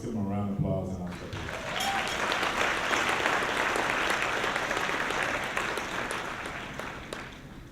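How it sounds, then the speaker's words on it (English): Audience applause at a scholarship luncheon, a dense, steady wash of clapping from many hands that swells after a brief spoken line at the start and holds at full strength before easing slightly near the end. "let's give them a round of applause"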